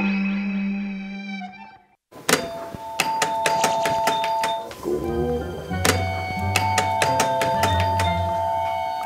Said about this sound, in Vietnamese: Đâu em thử chuông à.